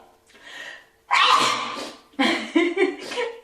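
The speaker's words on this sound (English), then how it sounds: "I'm a loud sneezer." Someone lets out a loud sneeze, a short breathy build-up followed by a sharp explosive burst and a voiced tail, all close to the mic.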